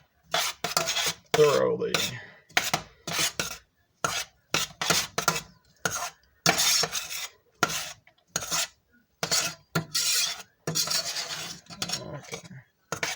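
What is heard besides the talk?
stirring a pot of broth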